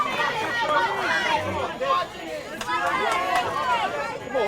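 A baseball crowd rooting for Phenix City, a lively babble of many voices with shouts and calls rising over one another throughout.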